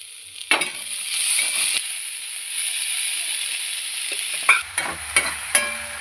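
Onion and tomato fry in a pan, a steady bright sizzle close by, with a few louder scraping stirs of a spoon breaking through.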